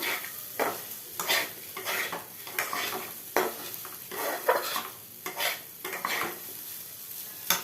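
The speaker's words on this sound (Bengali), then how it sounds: "দেখো তোমরা এটা আমি এবার ভালো করে নাড়ছি" Food is stirred in a hot pan, with repeated scraping sweeps in an uneven rhythm over a soft, continuous sizzle and an occasional clink of utensil on metal.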